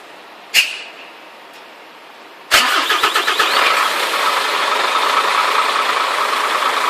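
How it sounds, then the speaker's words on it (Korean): A truck engine cranks and fires up after a sharp click, then settles into a steady, loud idle with a rough rumble. "엔진 소음이 어떻게 들리는지 시동은 얼마큼 빨리 걸리는지"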